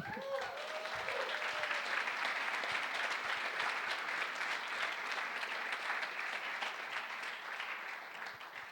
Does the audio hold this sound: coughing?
no